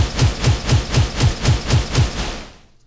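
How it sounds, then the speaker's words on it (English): Automatic gunfire effect from a Cyberpunk Red virtual tabletop game, a loud rapid burst of about nine evenly spaced shots with a heavy low thump each, ending in a short fading tail. "So we'll just do some automatic fire here."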